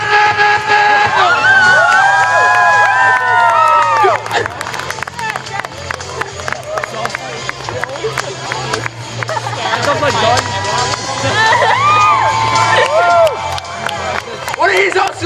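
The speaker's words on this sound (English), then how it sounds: "I want to hear you scream as much for my guild." A convention crowd at a comic con masquerade screams and cheers loudly and continuously, with a dense roar of voices and shouts swelling and fading over several seconds.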